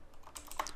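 Quick keystrokes on a computer keyboard while writing Java code for an Android app, a short burst of several sharp clicks, close and clear with no talking.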